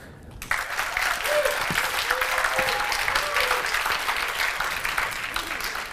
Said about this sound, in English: give them a round of applause as I call them up